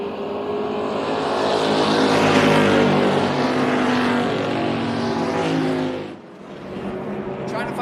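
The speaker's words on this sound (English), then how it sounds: "we got tight 3-wide racing action at the front here" Race cars at Tucson Speedway run three wide on a championship night, a loud sustained engine roar that swells past and then drops off abruptly near the end, with a commentator talking over it.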